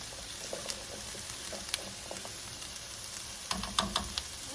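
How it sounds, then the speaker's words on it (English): Vegetables, including baby carrots, onion and zucchini, fry in a pot with a steady, close sizzling hiss, broken by occasional small pops and crackles throughout. "we're going to fry this until it softens the vegetables"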